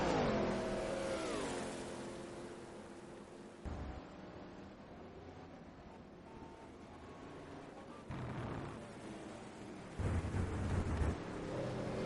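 Racing video game cars thunder down the long Mistral straight at Paul Ricard, engines holding a sustained high roar with gear shifts and pitch changes, heard fairly quietly and without commentary over it.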